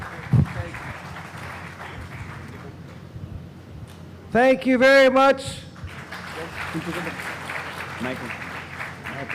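An audience applauds a US Congressman at a Swaminarayan Mahotsav gathering in Houston. Steady crowd clapping runs under the whole clip, and someone speaks briefly partway through.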